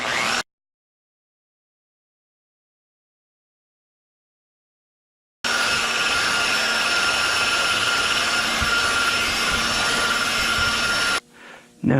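A buffer whirs loudly and steadily at close range while polishing a wet-sanded Honda Accord fender, broken by a long stretch of silence before the steady whine resumes and then cuts off near the end.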